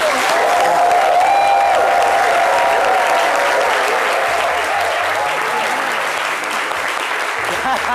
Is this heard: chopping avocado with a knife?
no